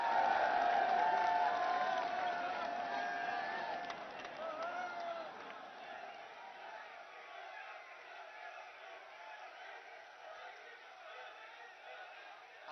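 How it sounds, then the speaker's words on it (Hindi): Applause from an audience at an official event with the Prime Minister and Chief Minister: a dense, loud wash of clapping that fades to a softer, lingering patter after a few seconds. "जोरदार तालियां।"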